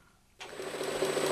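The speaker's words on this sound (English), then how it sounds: "Starvation can easily be identified by the change in the sound of the pump as it operates under partial vacuum conditions" A reciprocating diaphragm pump starved under partial vacuum starts up abruptly and runs with a steady, rapid mechanical clatter and whirring hum, close and fairly loud.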